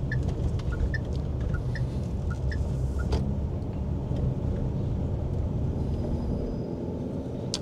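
Smooth, steady interior hum of a Jetour Dashing car engine on a highway test drive, a constant low rumble with road noise and a few faint ticking chimes early on.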